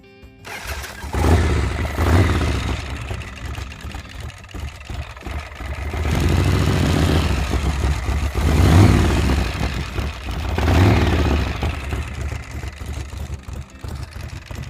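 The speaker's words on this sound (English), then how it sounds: "I might just ask you to fire this bike up for us" A custom 1976 Harley-Davidson FLH Shovelhead motorcycle starts up and is revved, a loud close engine swelling and easing in several throaty surges over a rumbling idle.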